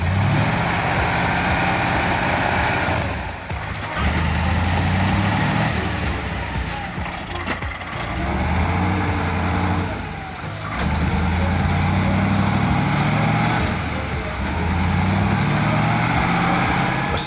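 A log-loaded Kama C4 310 truck engine strains heavily while sunk in deep mud, a loud, continuous low roar that surges and dips repeatedly as it labors, alone without speech.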